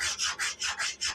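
A pencil scribbles back and forth across the flat face of a wooden charcuterie or cutting board before sanding, making six rhythmic, close scratchy strokes in quick succession.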